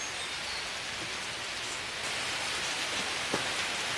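Steady rain falls on a camp shelter as a dense, even hiss of drops that grows slightly louder halfway through, with a faint tap or knock near the end and no voices.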